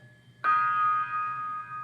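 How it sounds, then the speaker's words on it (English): A gong is struck once after a short quiet pause, and its bright, shimmering ring hangs and slowly fades. "Gong does sound sad."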